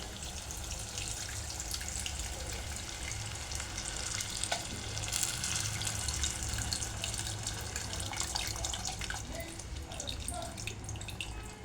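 Tamarind pulp pours into a curry of ivy gourd cooking in a pan, a continuous soft splashing and sizzling hiss with faint clinks, steady and fairly quiet.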